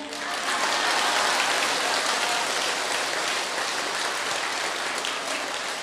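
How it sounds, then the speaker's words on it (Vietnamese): A Vietnamese Buddhist audience claps together in a steady, dense, rain-like patter that stays loud and even throughout. "Nên vỗ tay là một phương pháp đặc sắc"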